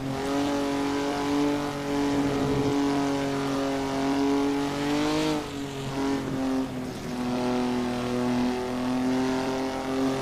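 Formula One era race car in Assetto Corsa, with a five-speed gearbox and over 300 bhp, its engine holding a steady high-pitched drone, briefly dipping around a gear change before climbing again, loud and close.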